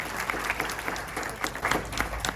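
Audience applause at a celebration of life gathering, a steady dense wash of clapping from a crowd, moderately faint and continuous throughout.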